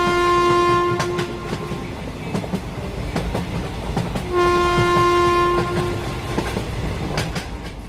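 A moving train rolls steadily along its rails with loud, continuous rumble and clatter, and a sustained horn blares twice, at the start and again midway, with no voices.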